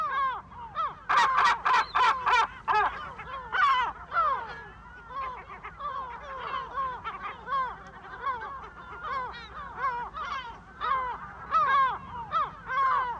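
A colony of gulls nesting on Cabrera island calls constantly, a chorus of harsh, overlapping cries and cackles, loud and close, with some bursts of rapid repeated notes.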